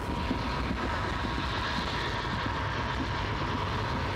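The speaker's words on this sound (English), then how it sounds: "when you're in the car, the train car, the sound of the train should be kind of ordinary" Steady, ordinary rumble inside a moving train car in the video game A Mother's Inferno, a continuous dense wash of low rolling noise with faint rattling, unchanging in level and with no voices.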